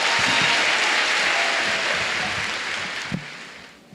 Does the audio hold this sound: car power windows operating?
no